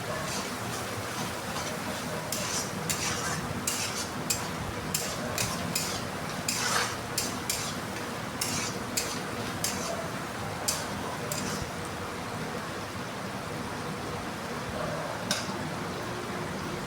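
Ground onion paste being stir-fried in a pan, a continuous sizzle under a fast irregular run of spatula ticks and scrapes that eases off toward the end.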